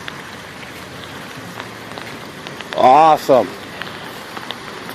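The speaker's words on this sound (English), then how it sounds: "That was a nice little July hailstorm." Hail from a July hailstorm patters steadily in the background, a soft continuous hiss of tiny impacts with a few sharper ticks, while a person briefly speaks partway through.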